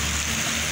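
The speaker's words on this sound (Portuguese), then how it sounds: "Muita chuva, hein?" Heavy rain pours down on a street by the cathedral in Maceió, Brazil, a steady close wash of hiss lasting under a second with no voices over it.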